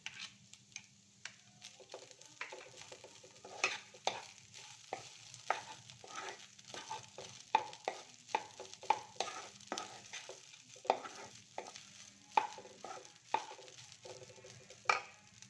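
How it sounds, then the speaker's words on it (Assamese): Bora rice is fried in a pan and stirred with a spoon, giving repeated scraping strokes in an uneven rhythm over a soft sizzle, close by with no talking. "চাউলখিনি প্ৰায় খুব ধুনীয়াকৈ মই ভাজি ল'লোঁ"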